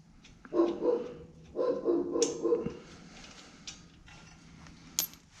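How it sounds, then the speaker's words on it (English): A dog barks in two short bursts of several barks each, fairly close, followed by quieter clinks and a faint whine. "What are you barking at?"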